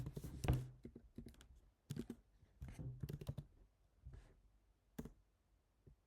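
Quiet bursts of typing on a computer keyboard, close clicky keystrokes in irregular clusters separated by short pauses, faint overall with no talking.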